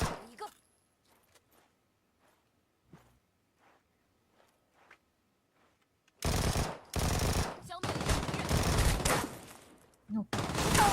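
Bursts of rapid gunfire from a video game, loud and sustained after several quiet seconds with faint footsteps, firing in dense volleys with a short break before a final burst.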